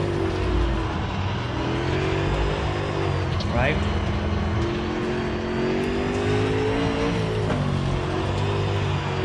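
Dirt late model race car in the iRacing video game, its engine droning steadily at part throttle with shifting pitch through the run, loud and continuous, with a brief spoken word over it.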